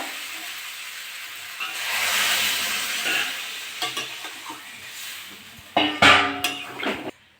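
Water poured into spices frying with potato and plantain, a soft steamy hiss and sizzle followed by a few sharp stirring clatters near the end, fairly quiet overall.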